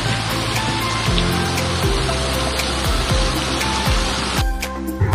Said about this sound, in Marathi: वरून अजून जोराचा पाऊस यायला लागलाय